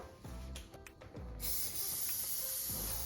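A short hiss of aerosol cooking spray onto a pan starts partway through and continues steadily, following a few soft clicks and taps, close by.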